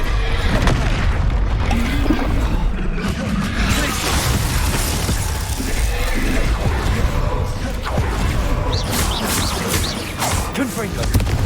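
Confringo blasting-spell explosions in the video game Hogwarts Legacy, played on hard difficulty, with loud booming blasts and crashing impacts during constant combat, under shouted spell incantations and character voices.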